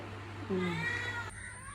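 A pregnant female house cat gives a single drawn-out meow close by, rising then fading, against a quiet indoor hum.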